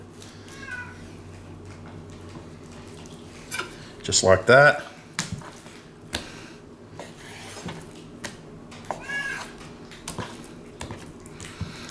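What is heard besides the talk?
cat meowing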